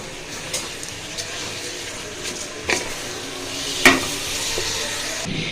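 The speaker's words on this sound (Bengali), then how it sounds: "আমি দুই মিনিট পর্যন্ত এটা এভাবে নাড়াচাড়া করে ভাজবো তেলের সাথে" Rice fries in oil in a pan, a soft, fairly quiet sizzle with a few scraping stirs, the loudest near the middle, and no talk.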